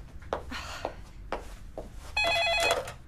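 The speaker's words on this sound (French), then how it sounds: "Téléphone, chérie, tu peux répondre." A home telephone rings with a bright, warbling electronic tone in a cartoon house, starting partway through after a few soft knocks and rustles, fairly quiet.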